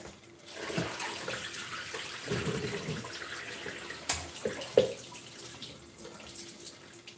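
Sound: water draining off washed potatoes

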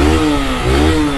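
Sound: motorcycle engine revving

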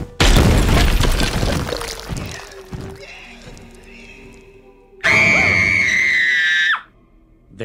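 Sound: cartoon scream from Smiling Friends

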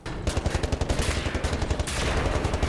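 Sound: gunfire from video game Wolfenstein: The New Order

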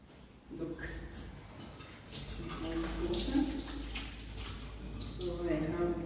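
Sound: water running from a kitchen tap

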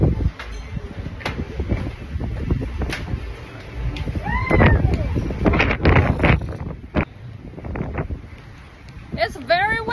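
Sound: wind

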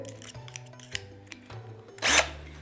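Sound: cordless drill with a spoon stirring hot milk and cocoa

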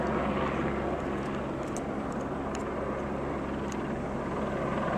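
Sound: news helicopters hovering overhead

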